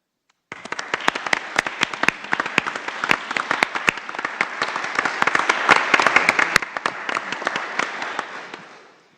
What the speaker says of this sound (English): let us honor you with a round of applause